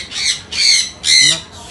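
Parrots in a pet shop shriek loudly in three harsh, close bursts, each about half a second long with short gaps between them, and a fainter fourth call trails off at the end.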